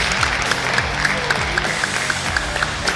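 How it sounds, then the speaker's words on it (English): An audience at a Tekken 8 esports event on a main stage applauds the male champion, giving dense, sustained clapping with sharp individual claps popping out throughout. "Massive round of applause to our champion for the Tekken 8 male competition."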